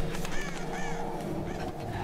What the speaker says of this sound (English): Ah, birds!